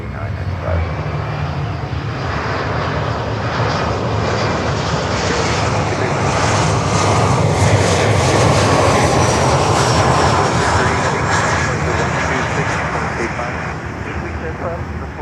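A Lufthansa jet on a runway at Miami roars loud and close, a broad sustained engine rumble swelling toward the middle and easing slightly as it passes, with a person talking over it.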